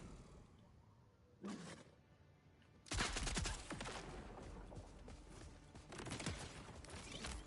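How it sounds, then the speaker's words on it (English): Rapid bursts of video game gunfire from Borderlands 4, dense and loud after an early short burst, rattling on continuously with overlapping shots and booming impacts. "Just throwing bullets out and seeing what will happen!"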